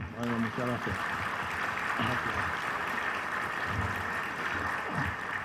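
An audience at a lecture on school leadership applauds Dr. Serafín Antúnez in a steady sustained round of clapping that fills the hall. Voices speak over it in places.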